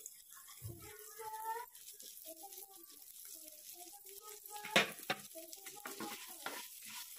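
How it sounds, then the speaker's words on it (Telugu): Vermicelli frying in ghee in a kadai, a soft continuous sizzle with scraping stirs and one louder clatter, under a voice talking throughout. "ఇదంతా మంచి బ్రౌన్ కలర్ వచ్చే వరకు సేమియాలో వేయించుకోవాలి మనం"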